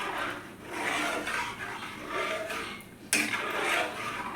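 A spoon scraping and stirring a rice and curry leaf mixture in a cooking pot, repeated rough rubbing strokes in a steady rhythm with one sharp knock partway through.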